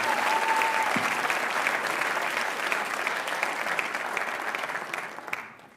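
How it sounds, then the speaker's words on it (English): Sustained applause from a jazz festival audience at a school venue, a dense, steady wash of clapping that holds for several seconds before tapering off at the end. "please give Mr. Carnstead and Mr. Gore a round of applause."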